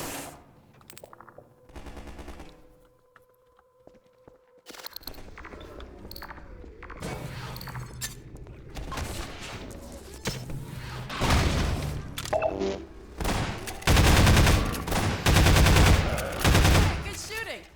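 Alyx's shotgun fired in the Half-Life 2 Episode 1 game amid the City 17 ruins, a string of loud, close blasts that grows denser and heavier toward the end and follows a quieter opening with scattered thumps.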